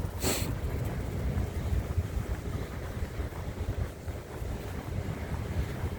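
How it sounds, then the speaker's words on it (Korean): Wind blows outdoors on a freezing winter day, a constant low rushing roar with buffeting gusts against the microphone and a brief bright burst near the start, and no one speaking. "바람이 있는데 바람이 엄청 세지는 않아요."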